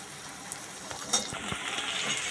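Chopped onion and green chillies frying in a pan for a spicy papad jhal with potato filling, a soft, steady sizzle with faint stirring scrapes throughout.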